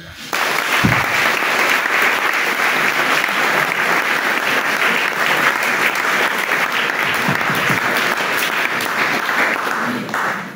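Sustained applause from a church congregation at a Catholic installation mass, steady and dense clapping filling the space for about ten seconds, with a brief murmur of voices beneath.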